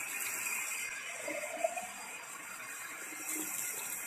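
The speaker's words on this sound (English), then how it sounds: "add 1 cup of water to the pasta jar" Water poured from a cup into an empty pasta sauce jar in a home kitchen, a soft steady trickle and splash that runs a few seconds with a faint hiss, close and alone.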